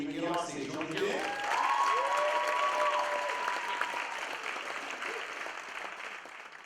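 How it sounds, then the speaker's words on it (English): An audience at a bodybuilding and fitness championship show claps and cheers for the athletes, a broad sustained burst of applause that gradually thins out, heard alongside a host's amplified voice. "these athletes deserve a huge round of applause before they even get on stage"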